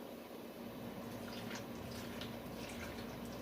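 Watery peanut butter mixture poured into ice cube trays, a soft continuous trickle and faint splashing at low level, steady throughout with no talking.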